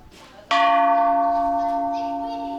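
A single Buddhist temple bell strike in Thailand rings out clearly, its sustained metallic tone slowly fading, with faint murmuring voices before the stroke.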